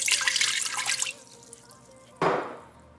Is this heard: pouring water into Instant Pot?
yes